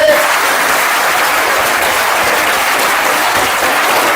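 Loud, sustained applause from a large audience, a thick unbroken wash of clapping that holds steady throughout with faint crowd noise underneath.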